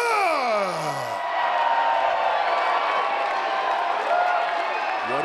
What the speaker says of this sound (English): What an ovation from the capacity crowd here at the Scottish Rite Temple.